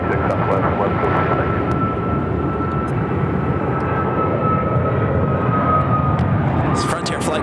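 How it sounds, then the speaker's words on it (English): A Frontier Airbus A320neo airliner on arrival from San Diego into Phoenix Sky Harbor airport gives a loud, steady engine roar with a faint high whine, continuous throughout without letting up. "It's a Frontier flight coming in from San Diego. It's an A320 Neo."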